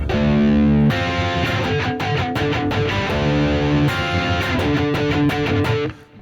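Distorted electric guitar plays a funk rock groove, loud and close, with rhythmic chord stabs and sustained riffs in a repeating pattern, alone without talk, fading at the end.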